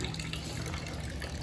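Water gushing from an opened HVAC pipe into a floor drain, a steady broadband rushing splash that continues evenly throughout at moderate volume.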